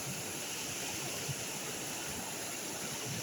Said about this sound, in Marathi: बाजूला मस्त नदीचा प्रवाह